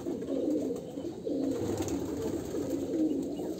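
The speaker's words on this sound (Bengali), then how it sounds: "এটা নর পায়রা।" Male pigeons cooing continuously nearby, a low rolling coo repeating in steady phrases about once a second, with faint background hum.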